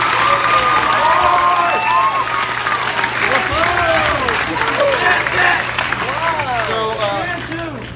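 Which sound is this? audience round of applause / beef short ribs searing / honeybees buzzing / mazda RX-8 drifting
audience round of applause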